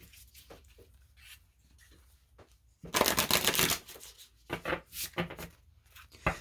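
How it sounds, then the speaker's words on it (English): Crisp riffling of an astrology card deck being shuffled, loud and close, with a few quieter taps and shuffles before it. "let's see what comes out with the astrology cards here. Do this one more shuffle."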